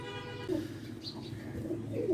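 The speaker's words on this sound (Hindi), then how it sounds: "मैंने कबूतर हाथ में पकड़ लिया है" Soft pigeon cooing murmurs close by, a few low throaty coos over a steady background hum.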